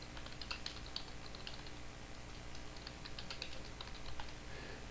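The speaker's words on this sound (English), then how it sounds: "Type in something, hit the Enter key," Light, quick keystrokes tap on a computer keyboard in an irregular run, with Enter key presses among them, soft and close over a steady background hiss, no voices.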